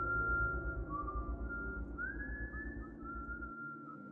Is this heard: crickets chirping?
no